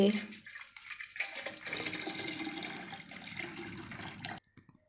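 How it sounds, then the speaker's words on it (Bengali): Milk is poured into a cooking pot, making a close, splashing liquid stream. The stream fluctuates for about four seconds and stops abruptly. "এই যে হাঁড়িতে দুধ ঢালা হচ্ছে।"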